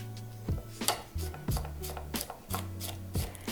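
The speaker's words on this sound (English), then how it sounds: "we're going to cut them in half and just slice them into like half moons" Knife slicing halved leeks into half moons on a cutting board, a series of distinct chopping taps roughly every half second over faint background music, no talking.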